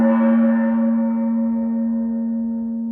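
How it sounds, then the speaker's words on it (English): A single strike of a Goki gong rings out, followed by a long sustained tone that decays slowly, heard alone and fairly loud. "I'm going to start off this by striking the gong."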